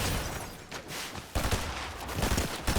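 Automatic rifle fire rattles through a Fortnite Zero Build fight, dense overlapping shots with short gaps, then a louder burst resumes and continues to the end.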